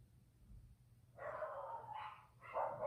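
Several dogs in a home bark in short bursts during a quiet yoga class, loud sharp barks after a calm start.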